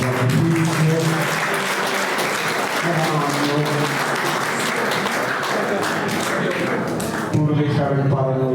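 A crowd claps at a live event, a steady full round of applause that carries on throughout while a voice talks over it.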